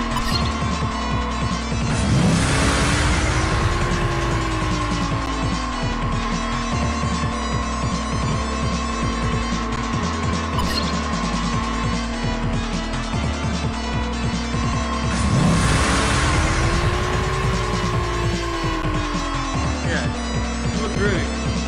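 Aston Martin engine in a night street racing game, a steady continuous drone with two rising revs, near and loud throughout with game music and effects layered over it.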